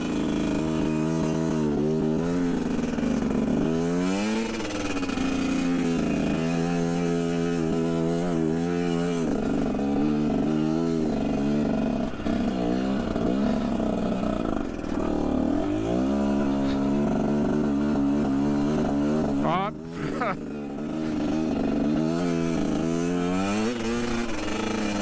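A 2021.5 GPX Moto TSE250R motorcycle ridden continuously, its engine revving up and easing off again and again through the gears. Loud and close throughout, with steady wind noise and no talk.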